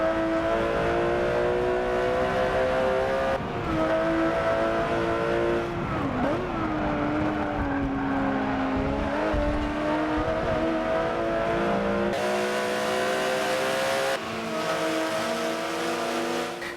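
Race car in the Forza racing game accelerating down a straightaway, a loud, close engine whine climbing through the gears with brief dips at each shift and a wobble midway, sustained throughout with no talk.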